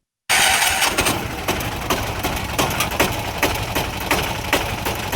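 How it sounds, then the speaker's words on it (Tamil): A Piaggio Ape City diesel auto rickshaw engine turns over and catches abruptly after a moment of silence, then settles into a loud, close, rattling idle with a rapid, regular knocking pulse. "டீசலை ஊற்றிட்டு வண்டியை ஸ்டார்ட் பண்ணிட்டாரு"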